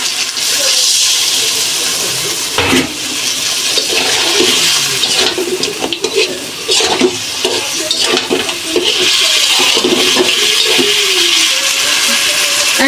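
Water splashes into a pan holding a pangas fish head dish, a steady broadband pour with sizzling and stirring clatter running the whole time, loud and close, no talk over it.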